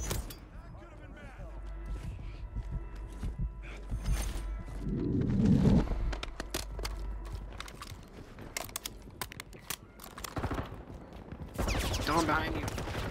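Ram-9 submachine gun fire in Call of Duty Warzone on Rebirth Island, rapid bursts of close gunshots with mechanical clatter, repeating through the stretch under ongoing game noise and voices.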